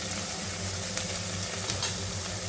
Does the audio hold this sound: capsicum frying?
yes